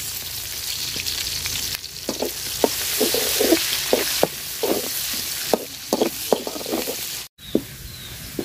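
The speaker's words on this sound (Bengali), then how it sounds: "মাছ ভাজার তেলে পেঁয়াজ কুচি দিয়ে দিলাম।" Chopped onion fries in oil left over from frying fish, a constant close sizzle punctuated by repeated spatula scrapes and stirring knocks in an irregular rhythm.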